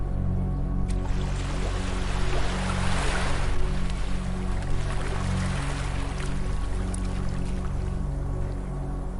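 Ocean waves wash onto a beach in a continuous rushing surf that swells slightly in the middle, with a low steady hum beneath and no voices.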